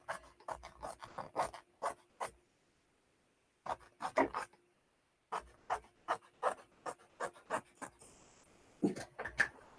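Scissors snip and rasp through fabric in quick bursts of repeated cuts, pausing twice between runs, close and fairly quiet.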